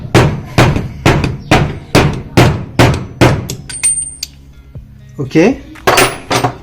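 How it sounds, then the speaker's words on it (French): A hammer strikes a Lambretta 125 LD scooter engine during reassembly: about eight loud, evenly spaced metallic blows, then a brief spoken word and a couple of lighter clinks. "Je vais pas remonter tout le moteur en marteau quoi."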